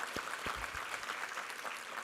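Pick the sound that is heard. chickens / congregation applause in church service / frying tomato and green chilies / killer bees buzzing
congregation applause in church service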